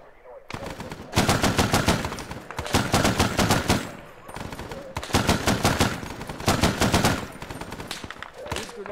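Repeated machine gun bursts in Arma 3, loud and close, firing in several long rapid strings separated by brief pauses.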